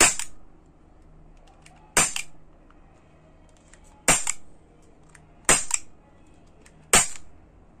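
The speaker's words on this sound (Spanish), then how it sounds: "Vamos a hacer otro disparo" Five sharp Walther PPS M2 CO2 BB pistol shots spaced a second or two apart, each a crisp snap with a short metallic tail, in a quiet room.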